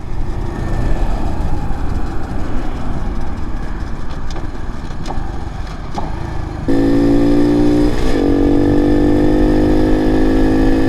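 A Honda CT70 clone mini motorcycle engine drones loudly while being ridden, a steady buzzing run with wind rush, shifting pitch and tone partway through as the gears change down.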